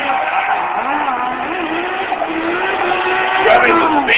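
A Nissan GT-R drifts at Formula Drift Long Beach 2008. The engine drone rises and falls steadily, mixed with continuous tire noise, and stays loud for the whole stretch while a commentator's voice sits underneath.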